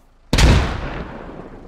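A grenade goes off in the tactical shooter SquadOps: one sudden, loud, close blast with a sharp broadband crack that decays into a long rumbling tail, with no talk over it.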